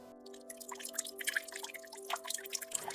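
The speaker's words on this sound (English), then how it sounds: "That's my nutrient solution dripping into my moss." Nutrient solution from an automatic drip irrigation system falls into a moss pole in small, irregular droplets, faint and close, over a steady low electronic hum.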